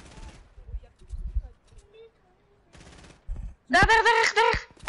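Sniper rifle shots ring out in a video game squad match, a few sharp cracks scattered between quiet stretches, followed by a dense loud burst of gunfire near the end while players talk.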